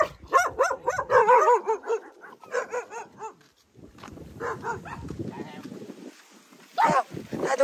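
A dog barks in a few short bursts at a rural home in Long An, Vietnam, mixed in with people talking loudly nearby.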